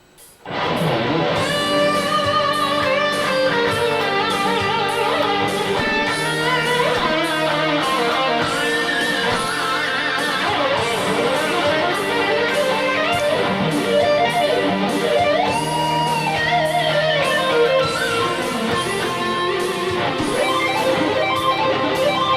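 An electric guitar plays a solo, busy sustained fast melodic runs and bends over full backing, loud and continuous throughout.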